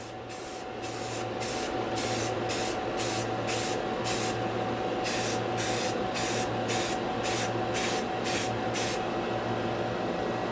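Aerosol spray paint hisses out in light coats of titanium dioxide onto a ceramic plate, a steady close hiss broken into about a dozen short rhythmic bursts with a low hum underneath.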